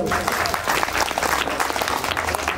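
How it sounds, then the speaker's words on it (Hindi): Loud, dense applause from an audience at a stage program, steady clapping filling the space from start to finish. "ताको भाई आगुड़े जोरदार ताली हो जाओ"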